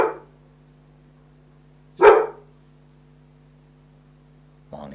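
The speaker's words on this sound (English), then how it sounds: "When Marnie stops barking, he'll either stop barking himself or he'll bark back" A dog barks back at another dog, with single sharp barks spaced about two seconds apart, close and loud, one cut short at each end, over a low constant hum and otherwise quiet surroundings.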